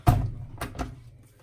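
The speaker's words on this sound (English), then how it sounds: "How many people did it take to unlock a Zodiac door?" An Australian Hoover Zodiac 12 washing machine door being unlocked and opened, a sharp latch clunk followed by two quicker knocks and a fading rattle, close by and with no talking.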